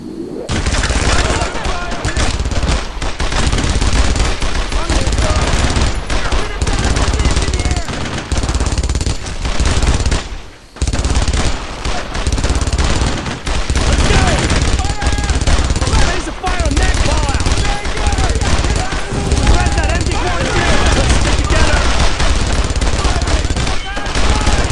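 Machine gun fire in the World War II shooter Brothers in Arms on the Purple Heart Lane mission, loud sustained bursts of gunfire with overlapping shots, nearly continuous throughout with one brief lull.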